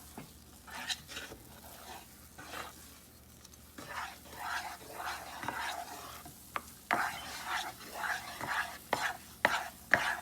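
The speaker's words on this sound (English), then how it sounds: "Keep moving it, stirring it. It should not touch the bottom of the pan." A spoon stirring thick Kada Prasad halwa mixture in a pan, giving soft, irregular scraping strokes with a faint background sizzle, quiet and close.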